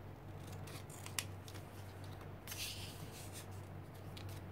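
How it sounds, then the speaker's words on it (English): Scissors snipping paper for an art journal page, a few quiet close cuts with a sharp snip early on and a soft rustle of paper in a still room. "Need to trim it a little bit."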